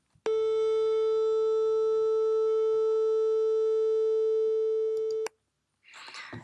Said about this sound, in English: When I play it, you can listen to what 440 Hertz sounds like